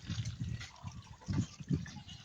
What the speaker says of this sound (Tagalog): Yan, dumadami na yung tubig.